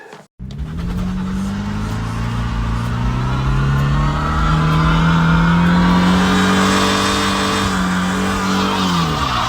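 Car tires skidding and squealing on pavement, a long loud sustained screech with the engine revving beneath it, rising in pitch, close and continuous after a brief opening thump.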